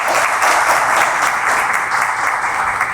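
Steady, dense applause from an audience greeting dignitaries at a formal ceremony held at the Supreme Court of Justice in the Dominican Republic, filling all three seconds without a break.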